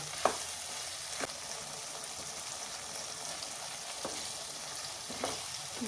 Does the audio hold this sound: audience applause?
no